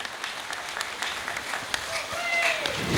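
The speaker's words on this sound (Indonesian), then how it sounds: "beri tepuk tangan yang meriah untuk Bapak Nuryadi SPD." Audience clapping at a Nyadran village ceremony in Banyuraden, a steady mid-level patter of hands heard alongside voices and a tonal whistle-like sound toward the end.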